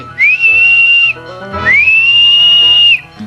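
Two loud, piercing whistle blasts sound up close, the first about a second long and the second longer, with a brief gap between them.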